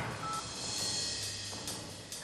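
Faint electronic tones from a phone keypad dialing a mobile number sound in short steps over a quiet background hiss, with no voices.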